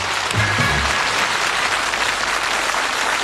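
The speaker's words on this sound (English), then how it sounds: "One round of applause." Studio audience at a 1981 television darts game show applauds steadily and loudly for the full stretch, a dense continuous wash of clapping with a brief low voice near the start.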